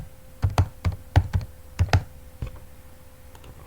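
Computer keyboard typing in short bursts, about a dozen close, soft key thumps in an uneven rhythm, then quiet with a faint steady hum.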